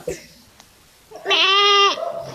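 A goat gives a single loud, wavering bleat of about a second, close by, following a quiet stretch with faint background noise.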